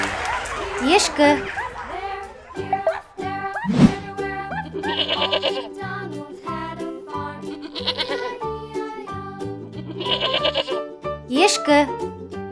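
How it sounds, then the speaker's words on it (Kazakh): Domestic goat bleats in a series of short, quavering calls, loud and close, spaced out among other farm animal noises. "Ешкі."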